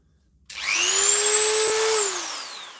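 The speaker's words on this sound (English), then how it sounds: "The Dremel 3000." A Dremel 3000 rotary tool starts after a moment of quiet and runs at a steady high-pitched whine close by, then begins to wind down toward the end.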